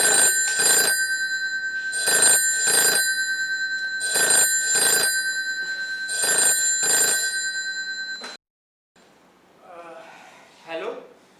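Telephone bell ringing in repeated double bursts, sharp and metallic, five cycles at an even pace before cutting off, followed by a brief voice.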